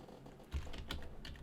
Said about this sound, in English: you could just as easily go into this command line right now and type in